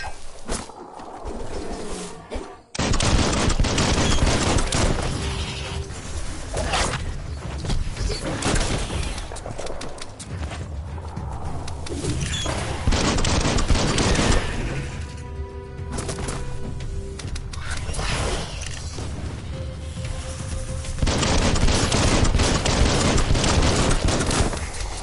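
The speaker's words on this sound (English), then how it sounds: "Bullets everywhere." Dense, continuous gunfire from many weapons in Biomutants on PS5, loud rapid bursts and crackling shots layered over one another for most of the stretch, after a brief quieter opening.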